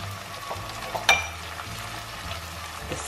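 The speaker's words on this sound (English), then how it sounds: "We're just going to cook the ginger and garlic paste just to get rid of that little bit of rawness that's in there." Ginger garlic paste and tomatoes frying in a pan for moong dal, a steady soft sizzle with one brief clatter near the start, heard alone without talk.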